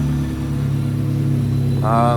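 Engine of a rusty Honda Civic EK with a GSR swap idling nearby, a low steady rumble with a thin whistle rising near the end, while a person talks over it.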